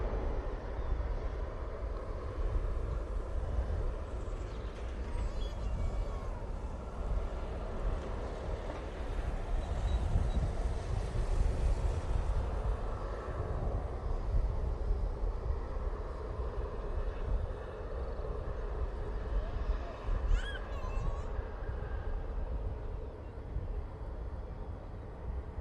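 An Airbus A321neo airliner from Istanbul passing at Manchester Airport, a steady loud roar of jet engines and rushing air that holds for the whole stretch with only slight swells, with no talking.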